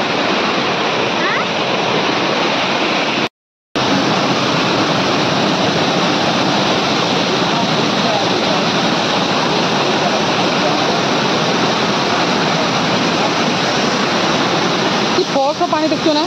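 A strong, forceful torrent of rushing water roars loudly and continuously, like a waterfall close by, with one brief cut to silence partway through.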